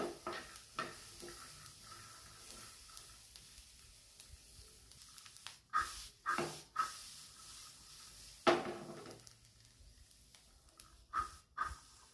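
Okra seeds are dry roasted in a pan, making a soft, steady crackle and sizzle with occasional louder scrapes and stirring clatters, close and fairly quiet, with no voices.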